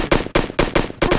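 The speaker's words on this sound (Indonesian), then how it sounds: "Kok ada tembakan?" Gunfire from PUBG Mobile, played on an emulator: four loud, close bursts of rapid shots in a steady rhythm, each lasting about a quarter second with brief gaps between.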